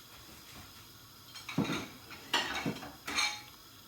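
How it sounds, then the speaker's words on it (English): A plate being picked up from a kitchen shelf to serve as a lid for a pan, a few quiet ceramic clinks and clatters in separate bursts over faint background, with a brief spoken word. "I'm going to grab a plate"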